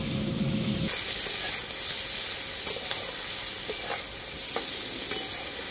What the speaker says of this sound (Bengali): কাঠসিম আর ব্রোকলি আমার খুব ভালো করে ভাজা হয়ে গেছে